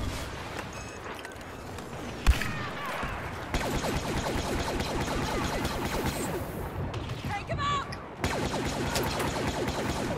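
Chaotic gunfire in Star Wars Battlefront, with rapid blaster shots, crashes and whooshes layered over a constant battle din, and a sharp bang standing out partway through.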